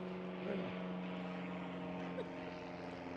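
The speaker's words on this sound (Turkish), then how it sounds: "Şu an uçak geçiyor." A steady, distant airplane drone hums continuously overhead, even and unchanging in loudness, with no talk over it.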